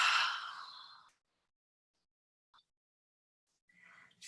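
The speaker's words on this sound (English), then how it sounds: "Exhale through the mouth." A long audible exhale through the mouth during a guided breathing meditation, a breathy sigh fading over about a second, followed by near silence and the start of another soft breath.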